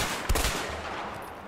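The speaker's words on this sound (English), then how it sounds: "I shot him once" A quick burst of close gunshots in a video game, one sharp crack followed by a brief rattle that fades into a steady hiss.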